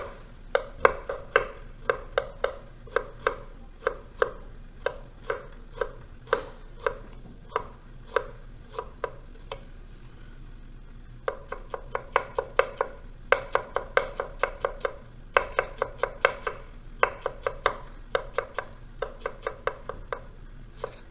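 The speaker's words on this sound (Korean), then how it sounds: "바늘 굵기로 생강을 채썰어 준다" A knife julienning ginger into needle-thin strips on a cutting board, crisp rapid chops in quick even bursts, a short pause midway, then more fast rhythmic cutting, close and clear with no talking.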